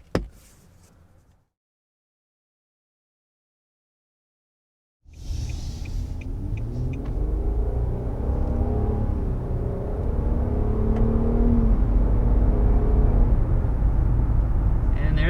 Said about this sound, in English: there's our acceleration pretty quickly up to 60 miles per hour